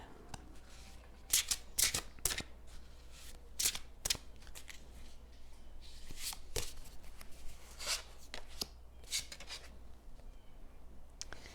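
A deck of angel cards being shuffled in a card-reading session: repeated crisp riffling and slapping bursts in an uneven rhythm over several seconds, close and fairly clear, with no talk.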